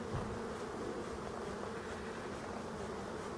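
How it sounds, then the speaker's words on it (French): Honeybees stream out of a hive in Brittany that has been shielded from Asian hornets with strawberry netting. A steady, dense buzz of many bees continues nearby and without a break, with no voices. "On voit très bien les abeilles qui depuis ce matin sortent très très bien."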